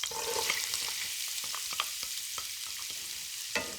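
Onions sizzling and frying in hot, foamy butter in a skillet, a steady close crackle broken by occasional stirring scrapes, with no talking.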